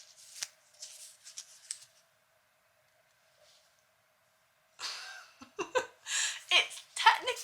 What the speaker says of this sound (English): One fell out when I was shuffling